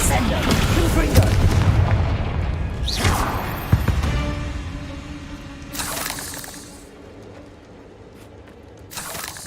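Confringo spell blasts in the Hogwarts Legacy video game, loud booming explosions with a shattering tail, several hits spread through the stretch, with a voice speaking over some of them.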